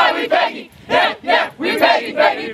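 A youth team at Pegasus practice shouting a cheer in unison, several loud, close group bursts in rhythmic pulses with brief gaps between them.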